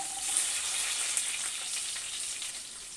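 Onion, curry leaves, ginger and garlic sautéing in a pan, giving a steady bright sizzle and crackle with one faint clink, moderately close, with nobody speaking.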